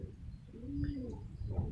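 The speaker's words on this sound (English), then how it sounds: "And here's one of our young birds here." Pigeons cooing inside a loft, one soft, rolling coo near the middle and faint bird calls around it, low and quiet against a murmuring background.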